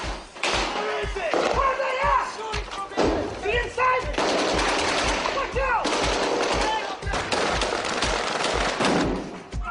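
Bursts of rapid machine gun fire in an Iraq war firefight crackle in repeated volleys, with shouting soldiers and scattered single shots in between, fairly close and harsh.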